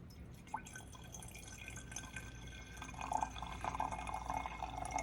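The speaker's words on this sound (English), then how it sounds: "We're going to put some vinegar" Vinegar poured into an Erlenmeyer flask for a chemistry experiment, a faint drip and then a soft gurgling trickle of liquid filling glass that grows a little louder toward the end, quiet and close.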